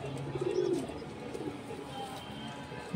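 Pigeons in a loft give a few soft, low cooing calls close by, with a quiet gap before another brief coo at the end.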